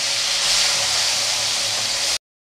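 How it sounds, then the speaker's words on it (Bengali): Fesha fish sizzling as it fries red in hot oil for a thin curry with gaathi kochu, a steady loud broadband hiss lasting about two seconds before cutting off abruptly, no voices. "তো বেশ উল্টে দেবো, এরকম লাল করে ভাজতে হবে।"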